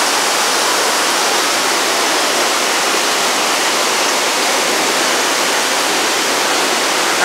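Heavy rainwater pours down continuously in the indoor rainforest section of the 1 Utama mall, a loud, dense rush like a waterfall, with no pauses or voices.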